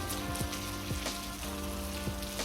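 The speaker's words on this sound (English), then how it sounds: "Now, this was a very rainy day." Steady heavy rain hisses across surfaces on a wet day trip in Montenegro, a dense, even wash of sound that fills the whole stretch with no voices over it.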